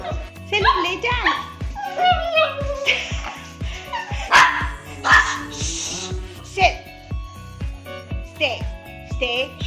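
A pet dog barks repeatedly in sharp, loud bursts throughout, with a person giving commands over and between the barks.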